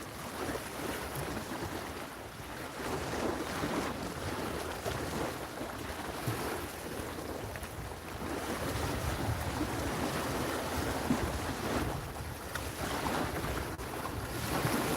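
Waves slap and wash against a boat on open water in December while wind buffets the microphone, a continuous rough churn with no speech.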